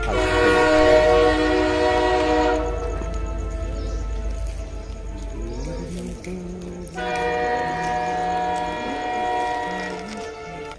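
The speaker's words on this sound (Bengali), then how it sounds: "রেলগাড়ি ছুটছে" A train runs along the line near Kharagpur with a loud sustained horn blast, then rumbling and clattering wagons, followed by a second long horn blast; no one speaks.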